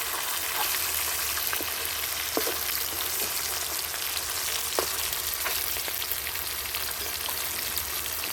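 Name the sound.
fish being sautéed in a pan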